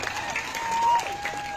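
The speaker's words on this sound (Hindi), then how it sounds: "इन सभी साथियों के लिए एक बार जोरदार तालियां" Applause from a rally audience honoring Adivasi community members, a dense patter of clapping with a faint tone running through it, steady and moderately loud across the short stretch.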